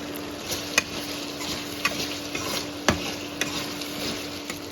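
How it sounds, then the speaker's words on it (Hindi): Tomatoes and homemade chili flakes fry in a pan for a Kashmiri fish curry, making a steady close sizzle with a few sharp ticks of a spoon against the pan. "और अच्छी तरीके से इसको भी हम फ्राई कर लेंगे टमाटर के साथ।"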